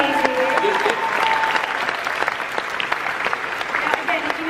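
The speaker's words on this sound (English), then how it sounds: "let's get another big round of applause for our 2 new cast members" Audience at a 2016 Comic Con panel for DC's Legends of Tomorrow applauds two new cast members, a loud, steady round of clapping and crowd noise with voices mixed in throughout.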